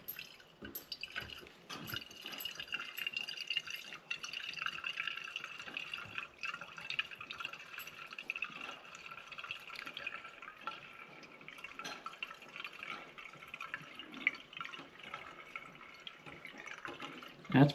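Liquid fuel trickles and drips steadily into a small 1947 Coleman 530 G.I. pocket stove, a continuous close splashing fill with no voices.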